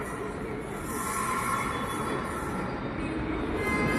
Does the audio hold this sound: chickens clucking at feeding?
no